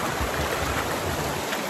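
Steady rushing of a clear river flowing close by, a dense continuous wash of water noise with no voices over it.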